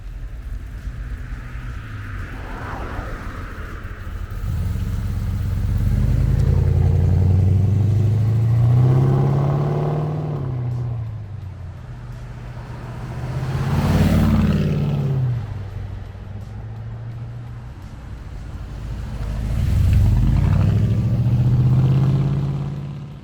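A 1972 Holden HQ Monaro's engine drones loudly while driving, swelling in several revving surges that rise and fall over a steady low rumble, with no talking.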